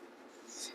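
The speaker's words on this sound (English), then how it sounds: "The cardstock is paper thin. Very, very, you can hear it though." Paper-thin cardstock Simpsons tarot cards rustle and scrape softly while handled, a faint continuous dry shuffle that grows slightly louder toward the end.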